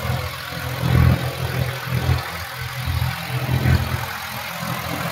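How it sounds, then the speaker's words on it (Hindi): A John Deere 5205 Power Plus tractor pulls a harrow under load, its diesel engine a steady, loud, close low rumble with slight surges as the throttle is pressed. "अब ट्रैक्टर लेके चल रहा लोड को साथ, दबा कर रेस लेके चला इधर"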